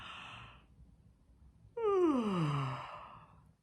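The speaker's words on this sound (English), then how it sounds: "Yawn your sleepies out" A quiet breathy exhale fades out, then a long, loud, drawn-out yawn with a falling moan-like pitch before trailing off.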